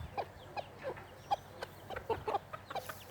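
Silkie hens cluck in short, soft bursts in an outdoor chicken-wire pen while calling their chicks, with a steady irregular rhythm of calls over quiet background.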